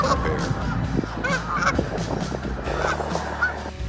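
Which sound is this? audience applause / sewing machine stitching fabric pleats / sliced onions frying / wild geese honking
wild geese honking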